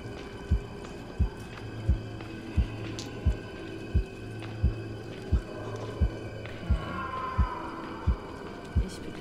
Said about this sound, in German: Herzschlag ist immer noch nicht normal.